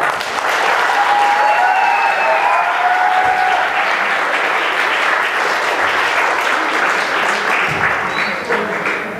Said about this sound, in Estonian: Veel kord aplaus tuleviku rockbändile.